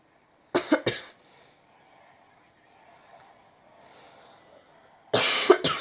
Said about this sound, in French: Excusez-moi les gars, je tousse un peu